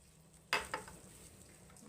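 Flour and semolina being mixed together in a bowl make a quiet, brief scraping stir, with a soft second rustle just after. The mix is heard alone.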